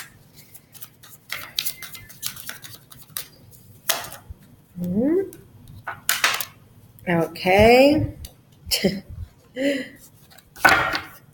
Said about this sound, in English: I swear, I know how to shuffle.